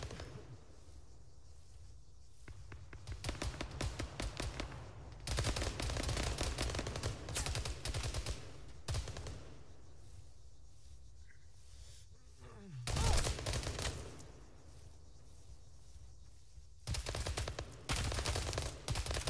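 Sustained machine-gun fire in an Arma 3 combat scenario, bursts of loud rattling shots coming in repeated stretches with brief lulls between them, close and dense throughout.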